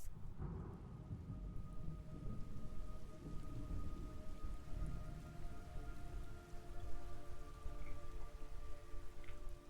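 Steady heavy rain in the video game Metal Gear Solid Delta: Snake Eater, with low rumbling thunder underneath, a continuous wash of sound with a faint sustained tone running through it.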